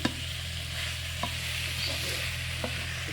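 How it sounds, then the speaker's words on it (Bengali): Ridge gourd and prawns fry in spices with a steady close sizzle, broken by a few soft clacks of a spoon stirring and scraping the pan, with no talk over it. "তো এটা একটু ভালো করে একটু কষে নিতে হবে।"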